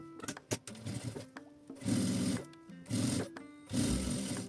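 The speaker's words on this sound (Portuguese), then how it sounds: "posiciono em cima e passo uma costura de um pé de máquina." Sewing machine running in three sustained bursts with short pauses, stitching a fabric lining onto a sheet of clear plastic beside faux leather, with faint handling knocks between runs.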